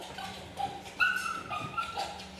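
A dog at an animal shelter whimpers and yips in a run of high, thin whines and short cries, fairly close, with a low steady hum of the kennel behind it.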